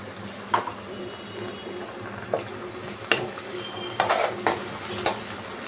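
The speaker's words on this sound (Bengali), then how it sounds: "এবার আমি দিয়ে দেবো সেটা হচ্ছে জিঞ্জার গার্লিক পেস্টটা দিয়ে দেবো।" Ginger garlic paste frying in refined oil for a spicy egg curry, a soft steady sizzle broken by sharp clinks and scrapes of a spoon stirring against the pan, close and moderately loud.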